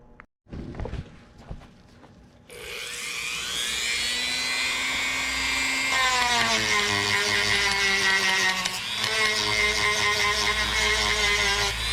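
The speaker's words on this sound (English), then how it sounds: "I'm just trying to smooth out some of my rough grinding work with a worn out sanding drum" A high-pitched rotary tool with a worn sanding drum whines steadily, smoothing a Stihl 025 chainsaw crankshaft with shifting pitch, after a few brief clicks and handling noises at the start.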